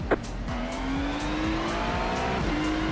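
A race car launching from pole position at a rolling start in the iRacing sim, the engine note climbing steadily as it accelerates hard, with other cars' engines droning around it and no talk.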